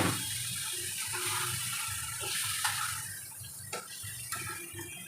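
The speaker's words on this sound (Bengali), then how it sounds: "এই মানে বাটি দেওয়া জলটা আমি দিয়ে দিলাম।" Water from a bowl poured into a hot cooking pan with salted ingredients, a continuous rushing splash and bubbling hiss lasting several seconds, close and fairly loud, with no speech.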